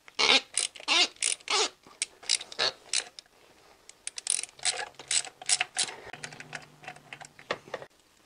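A ratchet works a stuck, poorly installed spark plug gently back and forth, giving close, crisp bursts of rapid clicking in irregular groups with brief pauses between strokes.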